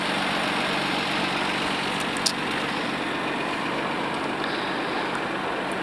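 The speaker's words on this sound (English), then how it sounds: "from the inside of the car you can hear half engine, half exhaust sound" A 1989 Nissan Skyline GT-R engine idles steadily, heard from inside the car, its deep exhaust rumble mixing with mechanical engine noise and no speech.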